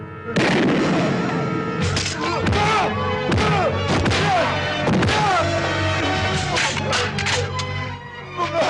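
Explosions in an action film: a series of loud booming blasts and crashing impacts in close succession, with music and scattered voices under the din.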